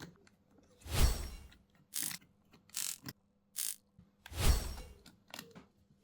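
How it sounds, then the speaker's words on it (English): Screws being backed out of the rear panel of a Nintendo Switch with a small screwdriver, giving several short, close bursts of ratcheting, clicky mechanical turning separated by brief pauses. "we get our iFixit kit out, and then we'll remove all the screws out of the back"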